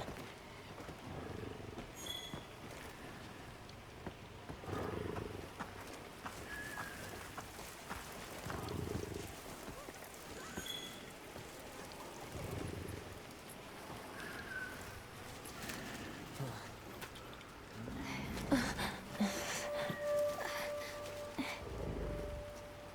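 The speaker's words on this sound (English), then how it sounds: "Do you hear that? Something snoring." A large creature snores with slow, deep, rasping breaths that swell every few seconds, fairly faint beneath a steady rain-like hiss.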